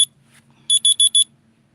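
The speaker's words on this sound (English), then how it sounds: "That's my 6:30 alarm" A 6:30 alarm clock rings with four quick, shrill electronic beeps in a row after a fainter chirp, clear and close against a quiet room hum.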